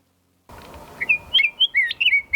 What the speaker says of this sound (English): We're also hearing a Scots oriole singing in this juniper.